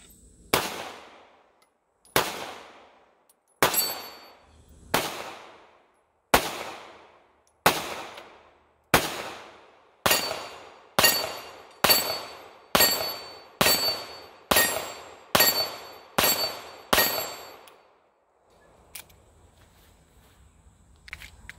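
Sixteen sharp pistol shots from a Smith & Wesson Bodyguard 2.0, loud and close, fired at a steady, quickening pace with short ringing decays, ending in a faint clatter and quiet outdoor ambience.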